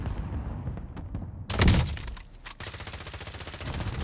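Hostile gunfire in a combat video game: scattered distant pops, then a loud burst of shots with a crashing impact, followed by steady rattling fire, with no talk.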